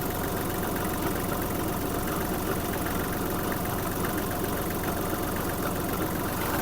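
A Japanese Kubota GL-200 mini tractor engine idles in a steady, even rumble with a faint knocking texture, holding close and constant with no voices over it.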